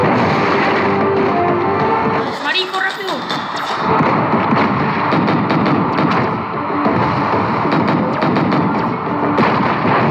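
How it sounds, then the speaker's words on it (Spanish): Gunfire crackles and booms through a shooting video game match, repeated shots and heavy thuds packed closely over a loud, busy game soundscape, while players talk over the action. "Tengo que dispararle a este duro."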